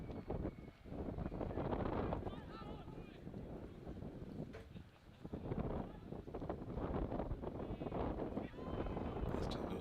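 Wind gusts buffet the microphone at an outdoor under-18 boys' football match, a rough, continuous rumble that swells and dips throughout, with a commentator's voice talking over it.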